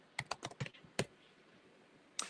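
A short run of keystrokes on a computer keyboard typing a web address, about six quick close clicks, a pause, then one more key press, quiet and alone.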